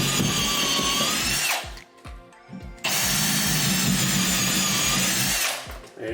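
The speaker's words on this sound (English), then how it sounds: "use the drill and drill into the bottom two" A power drill drilling into a wall whines loudly at high speed, stops briefly with a few clicks and knocks, then revs up again for several seconds before winding down.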